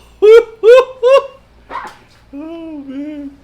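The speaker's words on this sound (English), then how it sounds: "It's a goose. And it squeaks." A squeaky goose-shaped dog toy squeaks three times in quick honking bursts, followed by a short rustle and two longer drawn-out squeals, loud and close.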